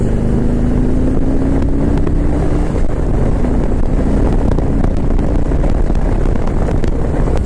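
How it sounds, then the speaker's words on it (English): A 2019 Harley-Davidson Street Glide Special with a Milwaukee-Eight engine accelerates on a country road, its rising engine note partly buried under loud, continuous wind buffeting on the microphone. "you guys can see the power is great, the sound is great, it is just a fantastic, fantastic engine"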